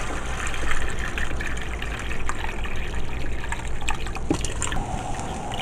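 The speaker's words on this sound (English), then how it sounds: "I'm only going to add 3 cups of water, like that." Water poured into a pan of browned rice, a steady liquid pour and splash running throughout, fairly close and continuous with no talk.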